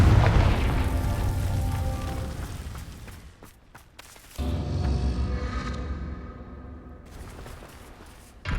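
Fire-spell explosions in the Hogwarts Legacy video game: a loud, deep booming blast that rumbles and fades, then a second heavy explosion follows after a short lull, both thick with low-end roar.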